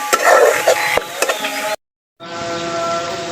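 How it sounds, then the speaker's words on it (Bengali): Spices are stirred in a pan for a Bengali tangra fish curry, giving a loud scraping and sizzling texture with a few sharp clinks, then a brief gap and a steady sizzle. "সমস্ত মশলাগুলো আমি এখন নেড়ে নেব।"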